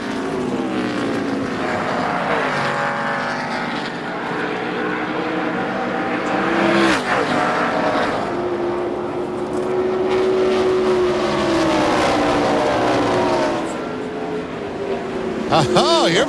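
NASCAR Busch Series cars race at the 2001 South Carolina 200, engines droning loudly and rising and falling in pitch as they pass, with commentators talking over them.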